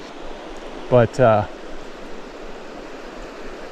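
Glacial mountain creek, Resplendent Creek below Resplendent Mountain near Mt Robson in northern BC, rushing as a steady broadband hiss throughout, with a brief spoken word near the start.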